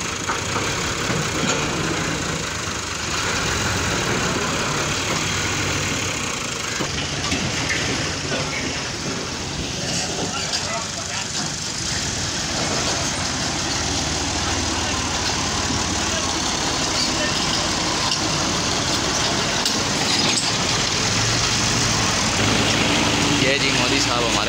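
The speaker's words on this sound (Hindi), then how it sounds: "सामने ट्रैक्टर सीधा कर रहा है इसको," A tractor engine drones steadily nearby while it levels dumped soil on a village road job, a constant mid-pitched rumble running throughout under intermittent talk and outdoor noise.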